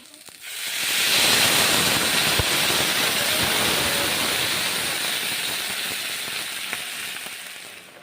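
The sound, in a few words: water added to hot pan of moong dal and eggplant, hissing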